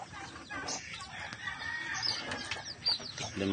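Newly hatched chicks give faint, high peeps among a batch of freshly hatched eggs. The short chirps are scattered and soft over a low background hiss.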